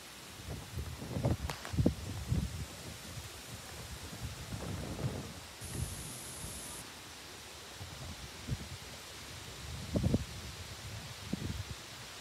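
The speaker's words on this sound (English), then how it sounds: "Starting to rain." An outdoor late-summer thunderstorm moves in, with a broad hiss of steady rain and low rumbles of distant thunder rising and fading several times at a moderate, fairly faint level.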